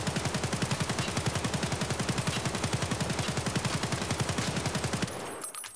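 An AK-74M rifle fires full auto in Escape from Tarkov: one long, steady stream of rapid, evenly spaced loud shots that cuts off abruptly near the end, leaving a brief ringing tail.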